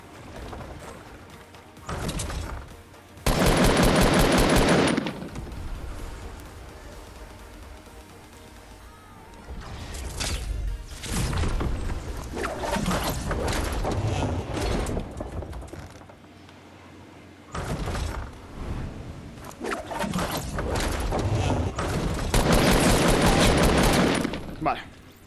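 Weapon fire and reload mechanics in Fortnite: bursts of loud rapid gunfire separated by clicking, clacking reload handling, repeating across the stretch with quieter gaps between volleys.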